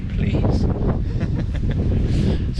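Strong wind gusts buffet an exposed mountain campsite, rumbling and roaring against the microphone in uneven bursts, loud and close, with faint voices partly masked underneath.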